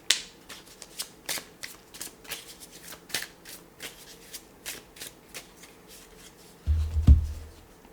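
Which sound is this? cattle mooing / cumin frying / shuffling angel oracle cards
shuffling angel oracle cards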